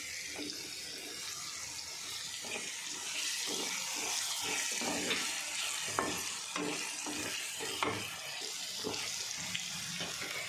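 Spice powders being stirred into pasta in a pan, with steady close scraping and stirring strokes over a faint sizzle, recurring in an even rhythm with no talk.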